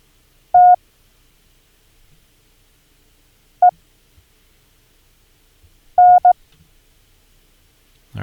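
Morse code tones spell out the word ten: a short single beep, a pause, another very short beep, then a longer tone followed by a short one, each clean and isolated against silence.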